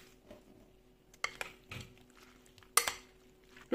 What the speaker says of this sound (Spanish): Vamos a agregar la papa, que la tengo bien escurrida. Y la vamos a entreverar bien.